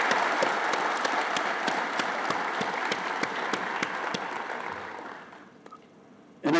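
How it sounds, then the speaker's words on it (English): Sustained applause from a large audience at a graduation certificate ceremony, steady dense clapping that fades out toward the end with a brief closing noise. "I propose a big applause for all of you who have received the certificate."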